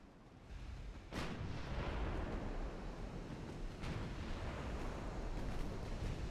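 Naval main guns firing in the warship game Ultimate Admiral Dreadnoughts, a French campaign set in 1903: a steady roar of battle rumble with two distinct heavy booms, fairly loud, with no talking.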